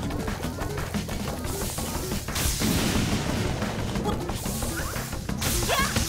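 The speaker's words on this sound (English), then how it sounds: "Okay, we're gonna cook this bomb." Bomb blasts in Zelda: Link's Awakening, a few loud crashing booms in quick succession over busy game noise, with no voices.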